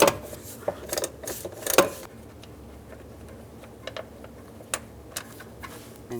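A 13mm socket wrench ratchets out door hinge bolts on a 2007-13 Chevy Avalanche, with close, rapid metallic clicks in short bursts followed by a few scattered ticks in a quiet garage.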